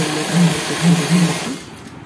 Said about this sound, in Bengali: এবার আমি 8-9 ভাঁজ ফোল্ড করে কাপড়টাকে মোটা অংশ করে নিয়ে তারপরে আমি সেলাই করে দেখব।